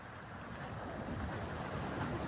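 Sea waves wash steadily onto a shore, a continuous broad rushing surf mixed with gusty wind buffeting the microphone, with no voices.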